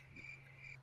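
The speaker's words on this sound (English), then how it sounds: "If you could play the crickets again" Crickets chirp in a short sound effect, steady pulsing trills over a low electrical hum, moderately loud with no talking.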